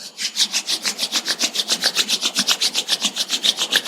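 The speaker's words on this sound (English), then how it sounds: "let's generate some energy between our palms by rubbing our hands against each other" Two palms rubbed briskly together in a quick, steady back-and-forth rhythm of roughly a dozen close, loud strokes, each a dry swish with no voices.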